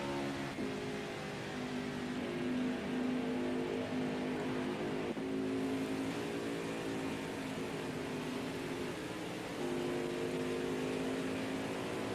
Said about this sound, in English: It's a drag race down to turn 2 between Eddie and the 61 car.